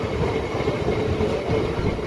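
A MEMU local train rolls along with a loud, continuous low rumble and wheel clatter, close and steady throughout.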